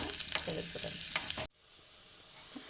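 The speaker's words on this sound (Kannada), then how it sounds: "ಇದಕ್ಕೆ ಒಗ್ಗರಣೆ ಆಗ್ತಾಯಿದೆ" Cumin, garlic and green chili tempering in hot oil for palak paneer, a loud crackling sizzle with stirring that cuts off abruptly midway, leaving a faint quiet hiss.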